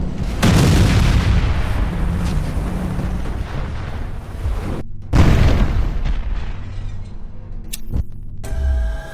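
A deep, roaring explosion aboard a ship at sea rumbles out, cuts off abruptly, then a second heavy blast and rumble follows, loud and close.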